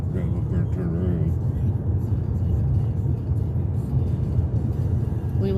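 A car drives along a road around Lawrenceburg, Tennessee, giving a steady low engine and tyre rumble from inside the cabin while people talk over it.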